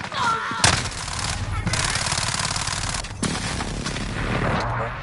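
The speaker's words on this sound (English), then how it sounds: "Be advised, friendly precision airstrike inbound." Call of Duty match with dense automatic gunfire and heavy booming blasts from an incoming precision airstrike, loud and continuous for several seconds, with a radio-style voice speaking over the barrage.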